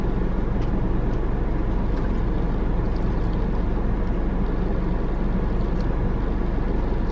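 A loud, steady air-conditioning blower inside an old 2010 Honda CR-V fills the cabin with a continuous broadband rush and low hum, constant throughout with no speech over it.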